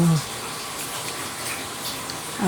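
Water gushes from a container into a pan of sautéed mussels for a sautéed mussel dish, a brief splashing pour heard up close, with a voice at the start and end.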